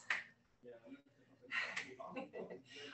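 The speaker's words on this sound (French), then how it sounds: "Là, il y a juste mon claquement de doigts à moi." Someone snaps their fingers a few times in a sharp, close, fairly faint rhythm, mixed with a person speaking in between the clicks.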